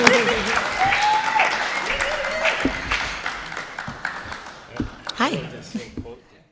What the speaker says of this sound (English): So I would like to give our entire panel a huge round of applause.